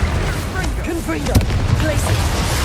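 Confringo blasting spell in Hogwarts Legacy going off as rough, rumbling bursts within a dense wash of combat noise, with a voice talking over it.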